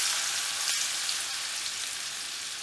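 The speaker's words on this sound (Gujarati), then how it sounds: "તેલ આપણું ગરમ થઈ ગયું છે હવે આપણે એમાં પહેલાં હિંગ એડ કરશું પછી આપણે લસણ એડ કરી દઈશું" Asafoetida and garlic hit hot oil in a pan, raising a loud, close, continuous crackling sizzle that holds steady throughout, without any speech.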